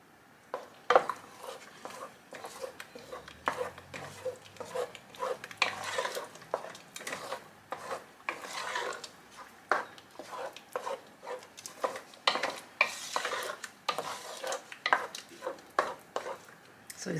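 Melting mozzarella mac and cheese stirred in a pot, with a spoon scraping and clacking against the pot in a busy, irregular rhythm throughout, close and fairly loud, with no talking.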